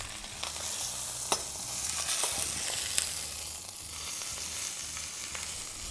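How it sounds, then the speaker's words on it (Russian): Meat seared on all sides in a hot pan, a continuous close sizzle with occasional sharp pops and scrapes as pieces are turned. "Вот, я со всех сторон запечатываю мясо."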